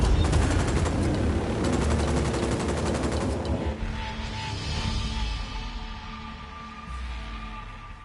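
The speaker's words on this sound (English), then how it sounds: "I'm opening fire on these shitheads" Heavy automatic gunfire in the tactical shooter Ghost Recon Wildlands, rapid bursts rattling continuously for several seconds before cutting off, leaving a quieter in-game ambience.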